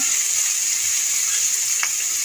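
Brinjal and fenugreek leaves frying with turmeric in a pan, a steady close hiss of sizzling oil with one brief scrape of stirring, no voices.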